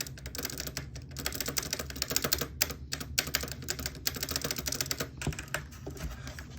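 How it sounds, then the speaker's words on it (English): Computer keyboard typing with the spacebar pressed repeatedly, a steady run of close, fairly quiet clicks and clacks. "remember this sound of the spacebar"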